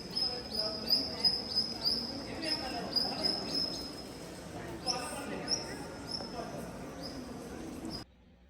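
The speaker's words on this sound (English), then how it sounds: "inside you can actually hear the birds chirping as they're flying around" Sharp, high chirps repeat again and again in an echoing cave near Kuala Lumpur, birds flying around inside, with a low murmur of voices beneath, before cutting off abruptly.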